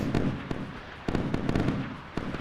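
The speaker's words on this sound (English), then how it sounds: "The cannon is pouring out the fire it can in order to attempt" Naval cannon firing rapidly in the Sea Power naval combat game, a string of sharp cracking bangs in uneven bursts, moderately loud against a rumbling background.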